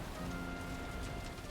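Steady rain falling in the video game Valheim, a dense, even hiss with soft patter that stays constant and fairly loud for the whole moment, with no voices.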